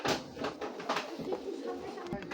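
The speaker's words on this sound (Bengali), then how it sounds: "একবারে বিদেশি জেনারেশনের কবুতর বাচ্চা এটা।" Young pigeons of a foreign bloodline coo quietly at a distance, their low rolling calls partly masked by a dull, noisy background with voices nearby.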